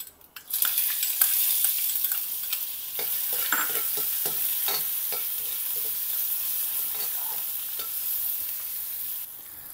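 Chopped onion dropped into hot tempering oil with mustard seeds, cumin and asafoetida, bursting into a loud close sizzle that settles into steady frying with stirring scrapes and light spatula taps.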